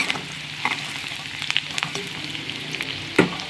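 Chicken legs frying in hot oil with turmeric, a steady close sizzle and crackle with a few sharper spatters and clinks standing out above it.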